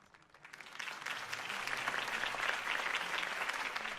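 A crowd applauds after a campaign speech in the Batman Telltale video game. The clapping starts light, swells quickly, then holds as a dense, steady ovation with no voices over it.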